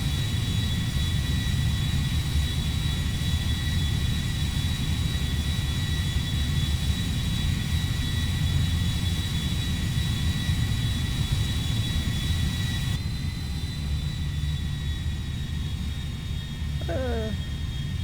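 Boeing 747-100 jumbo jet in GTA V roars with a steady, loud jet-engine drone and high whine, continuous throughout with a pitch shift near the end.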